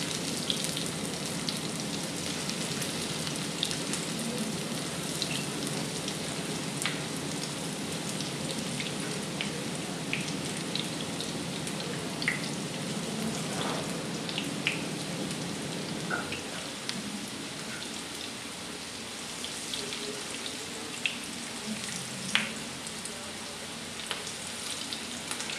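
Chard fritters fry in hot oil with a continuous close sizzle and scattered pops and crackles, steady throughout and easing slightly in the later part.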